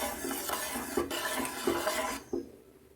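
Washed rice being stirred in salted water in a pot, a steady wet swishing with a few clinks of the spoon against the metal, close and soft, tailing off near the end.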